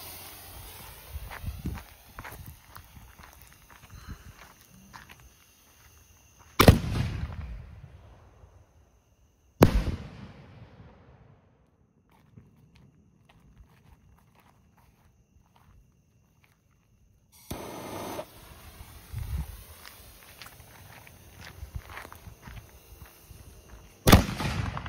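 Fireworks launched by an electronic firing system give several loud, sharp booms that decay into long crackling tails, with quieter intervals between the cues and shuffling or footsteps nearby.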